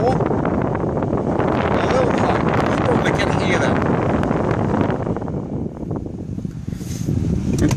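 A Holden car's fan blower runs on its fourth speed setting, making a loud, steady rushing whoosh of air close to the microphone that holds unbroken for several seconds.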